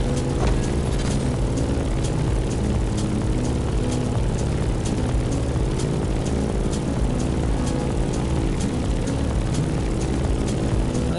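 A propeller airplane drones loudly and continuously in The Crew Motorfest racing game, a dense steady engine roar with rhythmic propeller pulsing throughout.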